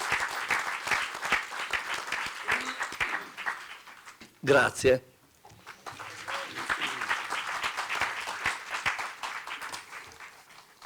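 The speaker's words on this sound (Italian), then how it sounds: "Facciamoci un applauso." An audience applauds at an art event at the Fortezza del Priamar in Savona, with dense clapping that swells and fades. Someone speaks briefly over a short pause in the middle.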